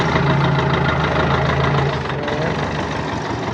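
An old Kubota L1 tractor diesel engine idles close by with a steady, low, knocking rumble that runs continuously.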